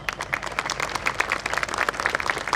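A crowd at a Milad procession gathering applauds the city police commissioner with steady, dense clapping from many hands, sustained and fairly close.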